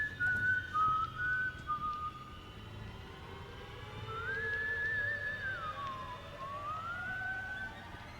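Character in the horror game White Day whistling a wandering tune, rising and falling notes at moderate distance, broken into phrases over a quiet background hum.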